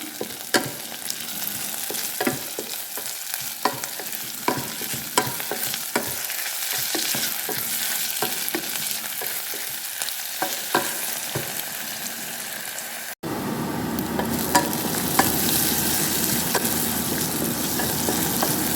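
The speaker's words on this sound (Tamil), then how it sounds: "தக்காளி துண்டுகளை போட்டு அதையும் நாங்கள் வதக்கி எடுப்போம்" Tomato pieces frying in a pan while being stirred for a Jaffna-style prawn and turkey berry curry: a continuous sizzle with repeated scraping and clattering strokes, close and fairly loud, no voices.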